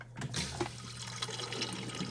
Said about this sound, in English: it's going to pull the water from the RODI garbage can I have here and clean out this reactor